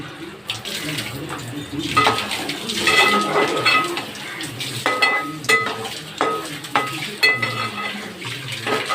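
A spoon scrapes and clinks repeatedly against a metal pan while stirring chili powder and spices, with watery sloshing and a light sizzle underneath, steady and close.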